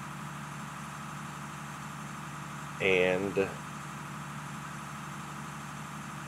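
Tractor engine idling in Farming Simulator 19, a steady low rumble running throughout with a brief spoken word over it midway.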